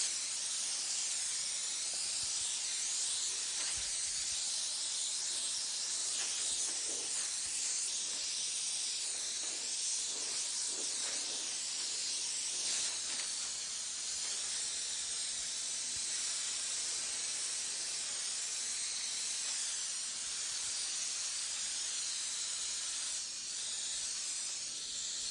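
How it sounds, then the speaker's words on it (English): A paint spray gun sprays pearl paint onto a vehicle, an unbroken airy hiss that holds steady for about twenty-five seconds with slight shifts in pressure, close and fairly quiet, with no talking. "I play with the air pressure and the fan pattern at this stage, and distance from the nozzle to the vehicle."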